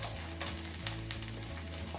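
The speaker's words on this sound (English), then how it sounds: "I am going to throw in a bit of garlic and just let that sizzle a little bit" Garlic sizzling in olive oil in a pan, a bright continuous crackling fry with scattered pops over a low steady hum, close and even throughout, with no talk.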